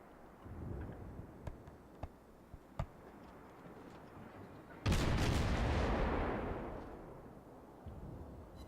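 Ship guns in a naval video game fire from a smoke cloud: sharp, distant shots pop sporadically, then a single heavy, loud blast booms and rolls away slowly.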